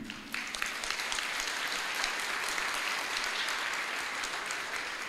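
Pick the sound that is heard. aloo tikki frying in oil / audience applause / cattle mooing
audience applause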